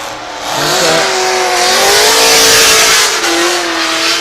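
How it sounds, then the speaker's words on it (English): A Chevrolet V8-powered Nissan 350Z drift car at a British Drift Championship qualifying round in Birmingham roars loudly at high revs with screeching tires and a wash of noise, its engine note rising and shifting. "Chevrolet V8 under the bonnet of this Nissan 350Z"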